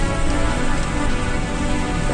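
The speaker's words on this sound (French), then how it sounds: "Il pleut sans arrêt depuis je sais pas combien de temps." Steady rain pouring down without pause on a road trip in the Chambord area, a dense, even hiss filling the whole stretch, loud and close with no voices.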